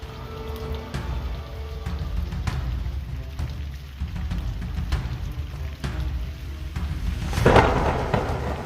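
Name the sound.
thunder from a huge storm rolling in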